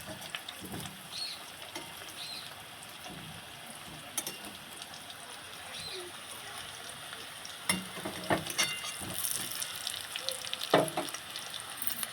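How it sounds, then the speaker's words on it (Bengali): Potatoes for chicken biryani frying in hot oil, a steady near sizzle with crackles and scattered pops throughout. "বিরিয়ানি আলুগুলো ভালো করে ছাঁকা তেলে ভেজে নেব।"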